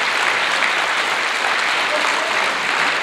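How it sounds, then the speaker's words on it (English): An audience at a matric awards ceremony applauds loudly and steadily, a dense wash of clapping that holds for a few seconds. "Can you also give them a nice round of applause?"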